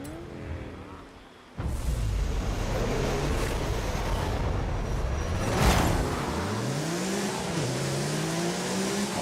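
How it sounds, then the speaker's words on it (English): A Porsche engine in Forza Horizon 5 revs hard and climbs through the gears, rising and dropping in pitch in steady loud sweeps after a quiet start, with no talk over it. "All these Porsches sound so mechanical."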